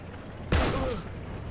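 One sharp gunshot burst rings out in the war game Heroes and Generals and tails off quickly, fairly faint against quiet background noise.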